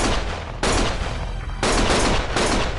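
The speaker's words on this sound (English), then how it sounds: "Stop shooting!" Automatic gunfire in the video game Lost Judgment: two long, loud, rapid bursts of shots separated by a brief lull, harsh and close with no talking.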